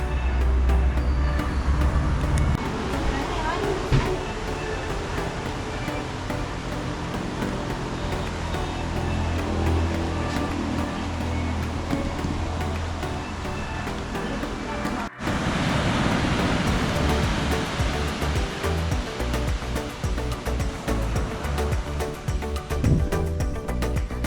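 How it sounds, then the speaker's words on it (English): Ocean surf at Playa Flamingo beach in Guanacaste, Costa Rica makes a steady, washing roar, heavily mixed with wind buffeting the microphone and interrupted by a brief cut partway through. "This is Playa Flamingo, Flamingo Beach, here in Guanacaste, guys."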